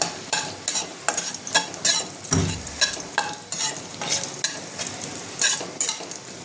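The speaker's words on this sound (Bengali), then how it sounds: "একটু ভাজা ভাজা করে নেবো এটা" Dried red chillies, bay leaves and whole garam masala fry in hot oil, giving a soft continuous sizzle broken by quick, rhythmic scrapes of a spatula stirring the pan.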